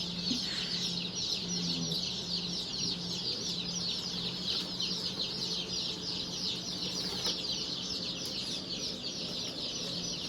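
A brood of baby chicks of rare breeds cheeps constantly in a high, dense chorus that runs throughout, with softer clucking underneath.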